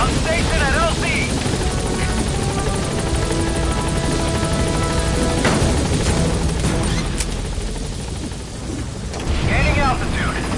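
B-Quad, a support helicopter in Metal Gear Solid V, comes in to land at the landing zone with a loud, steady rotor roar throughout and radio voices over it.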